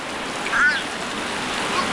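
Heavy rain pours down on a village in Konkan, a dense, even hiss of falling water that fills the whole stretch without pause.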